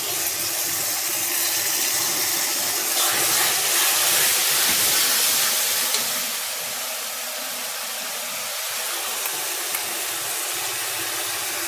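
Tomato paste, green and dried chillies, garlic and ginger paste sizzle in hot oil for an egg curry, giving a loud, steady broadband hiss that eases a little after about six seconds, with no talking.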